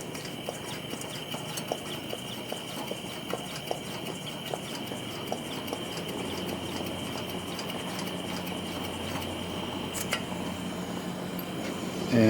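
Hand pump pushing pressure into a Coleman 288A dual mantle white gas lantern: a rapid, even series of faint rhythmic clicks and puffs over a steady hiss, close and fairly quiet, with no speech.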